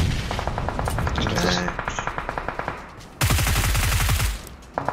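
Gunfire in the mobile battle royale game PUBG Mobile: rapid automatic bursts with sharp repeated shots, a pause, then another loud sustained burst, with a voice talking over the action.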